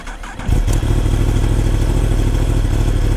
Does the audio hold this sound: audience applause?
no